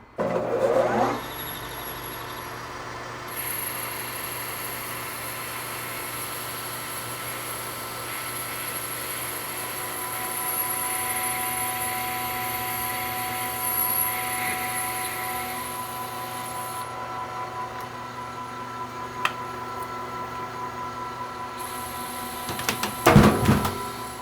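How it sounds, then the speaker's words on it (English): A metal lathe cuts an internal groove in a belt sander drum mandrel, a steady machine hum with a faint high cutting whine that holds for a long stretch before ending in a few clunks. "So we're going to try an internal groove here."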